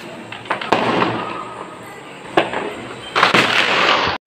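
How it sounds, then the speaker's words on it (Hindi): Firecrackers and fireworks burst during Diwali celebrations heard from a balcony: sharp pops at irregular intervals over a crackling background, ending in a louder, sustained crackling volley. "यही पटाखा का मस्ती है"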